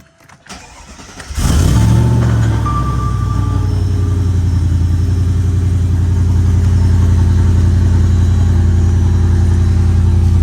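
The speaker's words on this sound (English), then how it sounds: "Let me try to start the car." A Mercedes CL55 cranks briefly and fires up, then settles into a loud, deep, steady idle with a strong exhaust rumble, heard close and alone.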